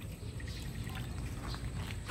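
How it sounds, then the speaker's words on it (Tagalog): Plain water is poured into a rooster's drinking container, giving a steady, fairly quiet splashing trickle that lasts the whole short moment with no talking. "So, ito yung inumin, nilalagay natin."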